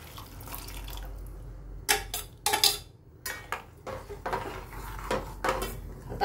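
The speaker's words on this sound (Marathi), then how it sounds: "आपण आता हे मटकी शिजवलेलं पाणी टाकून घेऊ" Cooked moth bean water splashes into fried masala in a pan for spicy misal, with a few short, uneven pours and light clinks of a utensil against the pot, close and moderately quiet, with no talking.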